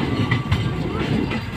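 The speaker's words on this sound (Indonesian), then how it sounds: "Nah, ini KA Serayu datang tadi." KA Serayu passenger train pulling into Cikampek station, a steady close rumble of rolling wagons with faint clickety-clack and a thin wheel squeal running throughout.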